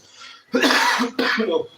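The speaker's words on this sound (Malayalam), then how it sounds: "ചുമ ചുമ പിടിച്ചു" Two harsh, close coughs in quick succession after a faint breath, loud and raspy, with no other sound around them.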